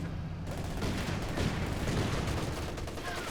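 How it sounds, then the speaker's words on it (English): Machine gun fire and other gunfire crackle in a dense, continuous rattle during a Company of Heroes 2 battle, loud and steady over a rumbling backdrop. "This range and then machine gun and negative cover should do quite a lot of damage."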